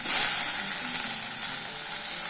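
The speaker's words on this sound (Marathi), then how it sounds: "आता कांदा मिरची भाजत आली." Onion and chili fry in a pan, a steady bright hiss of sizzling oil heard close and alone, with faint clicks of stirring.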